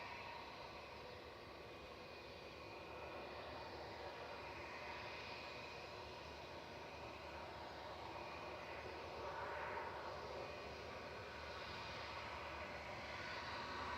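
A Singapore Airlines Airbus A350-900 comes in to land at Manchester Airport, its engines a faint, distant roar that swells gently toward the end with no one speaking.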